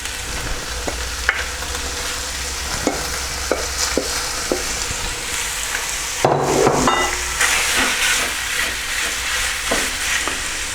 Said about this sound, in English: First thing we add is our minced beef or ground beef.